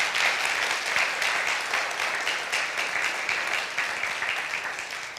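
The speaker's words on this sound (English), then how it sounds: "Can you please join me in a round of applause for our special educators?" Audience at a school district State of Our Schools event applauds special educators, a dense, sustained round of clapping filling the hall and tapering slightly toward the end, with no talk over it.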